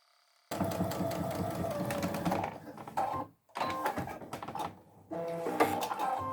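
Sewing machine stitching the edge of fabric for a peg apron, running in a fast, steady mechanical buzz. The runs are close and clear, with short pauses between bursts.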